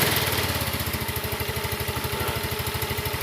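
A scooter engine, just serviced at its CVT, chugs close by in a fast, even putter after starting, running loud and steady throughout.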